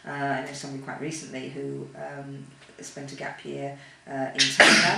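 A sneeze bursts out loudly near the end, right after a person finishes speaking in a quiet interview setting.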